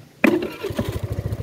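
A Rusi Flex 125i scooter fires up on its electric starter in one quick crank, then settles into a soft, steady low putter close by.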